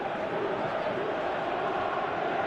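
A large stadium crowd in the football game PES 2018 keeps up a steady, dense roar with no breaks and no distinct voices.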